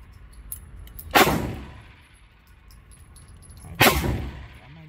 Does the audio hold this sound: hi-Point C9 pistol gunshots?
yes